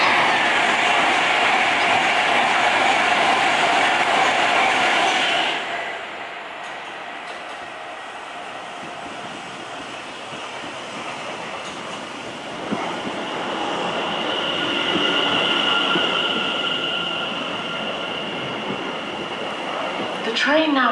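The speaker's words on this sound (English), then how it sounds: "Standing at platform 2 is the 1438 London Overground service to Watford Junction" A London Overground electric train sits at a Watford DC line platform, with a Class 710 noted. Loud rolling and whooshing fades to a steady hum while a voice speaks over it, and a brief wheel squeal comes near the end.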